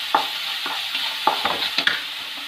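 Finely sliced onions stirred in a pan for egg masala, a soft sizzle under quick scraping strokes of a spoon, several close, uneven clatters in a short burst.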